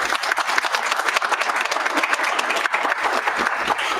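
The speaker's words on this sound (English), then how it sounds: "Now, round of applause" Audience applause at a town council meeting, with dense, close clapping that carries on steadily from start to finish and has some uneven swells in loudness.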